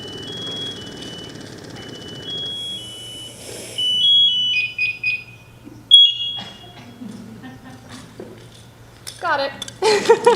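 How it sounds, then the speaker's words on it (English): An alarm gives a series of sharp, piercing beeps during a firefighting session, some sustained and some clipped, loud and close. People talk in between. "There's going to be one more really loud beep for me to turn this off"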